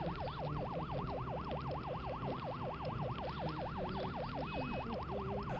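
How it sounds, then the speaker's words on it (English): Car siren wailing in a steady rising-and-falling cycle, continuous and fairly prominent over a low background hum in a rendered street scene, with no talking. "the siren of the car is displaced spatially towards the center compared to the reference"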